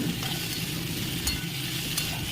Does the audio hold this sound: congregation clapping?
no